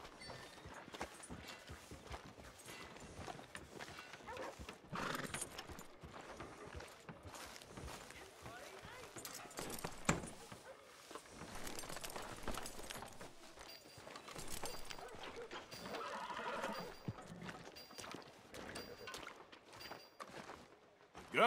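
Horse hooves clip-clopping in the Red Dead Redemption 2 video game, a quiet, steady walking rhythm at a hitching post on a town street, mixed under ongoing character dialogue and background music.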